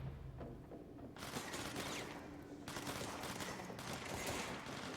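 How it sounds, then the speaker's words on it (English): Gunfire aimed at the player in the game Control: bursts of rapid, crackling shots in dense volleys, continuing steadily through the moment with no voices. "Who's shooting at me?"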